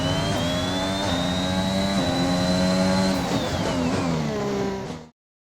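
Formula 1 race car on a qualifying lap near Monaco's start-finish line, its engine screaming loud and steady at high revs with a rising whine, then dropping pitch as it passes before cutting off.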